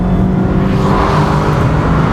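A Mazda MX-5 Homura's engine revs hard toward 7,500 RPM, a loud, close, continuous engine roar that holds steady without any pause.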